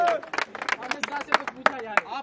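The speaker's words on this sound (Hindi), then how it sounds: "एक बार और जोरदार तालियों के साथ।" A crowd at a Valentine's gathering bursts into loud, rapid clapping, dense and close, with voices mixed in among the claps throughout.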